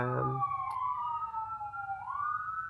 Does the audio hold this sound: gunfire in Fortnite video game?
no